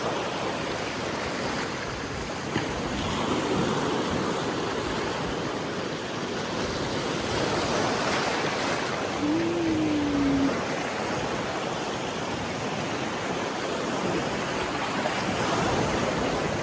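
Sea waves roll in at high tide along a seaside shore at sunset, a steady, full wash of surf that carries on without a break.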